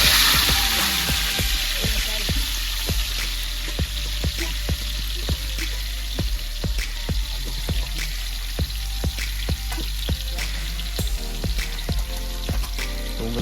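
Onion frying in hot oil in a pan during outdoor farm cooking, a steady loud sizzle with regular sharp pops and crackles and no talk.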